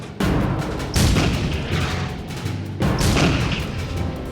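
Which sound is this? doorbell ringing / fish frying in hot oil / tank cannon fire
tank cannon fire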